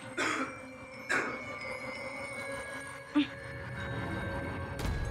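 A person coughs loudly at a distance in a few separate bursts spread across the stretch, heard over a steady low background hum.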